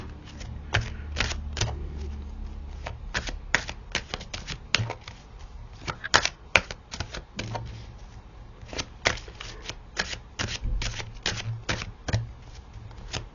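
Tarot cards being handled and shuffled from a deck, with a rapid series of crisp card flicks and slaps close by, broken by short pauses.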